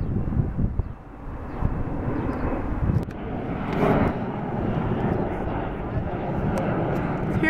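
A fixed-wing airplane rumbles at Detroit airport during plane spotting, a broad steady engine roar with wind buffeting the microphone and people talking over it.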